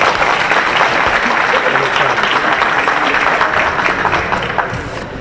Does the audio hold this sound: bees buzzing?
no